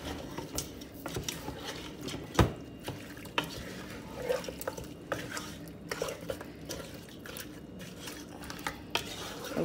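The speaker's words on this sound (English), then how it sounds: "Give it a good stir again" Chicken stew is stirred in a pot, producing soft irregular scrapes and clinks of a utensil against cookware over a low bubbling background, with no talk.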